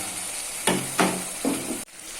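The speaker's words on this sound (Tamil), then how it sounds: "ஒரு தடவை கலந்து விட்டுக்கலாம்." Chicken chukka stirred in a pan on medium flame, three short scraping strokes over a steady background hiss, close and moderately loud, then a brief drop near the end.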